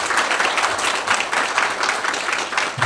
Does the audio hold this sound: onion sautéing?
no